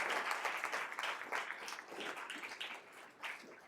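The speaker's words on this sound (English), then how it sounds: "Let's give them a round of applause as well." Audience applause at a school board meeting, faint and distant, a steady ripple of clapping lasting a few seconds.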